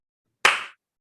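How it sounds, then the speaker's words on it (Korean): One sharp, loud hand clap rings out alone in a quiet room, with a brief decay. "박수 한번 칠게요."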